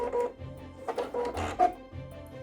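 A Pfaff Creative Ambition 640 sewing machine running its tie-off stitches and automatic thread cutter, a short series of close mechanical whirs and clicks ending in a brief motorized snip, with small pauses between bursts and no talk.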